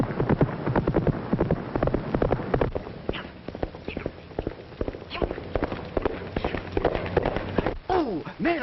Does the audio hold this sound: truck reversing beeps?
no